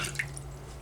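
Water runs from a sink tap in a Courtyard by Marriott hotel room in Andover near Boston, giving a brief, steady close splashing hiss with a low room hum beneath it.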